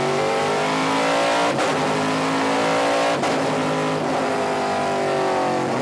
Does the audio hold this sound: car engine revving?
yes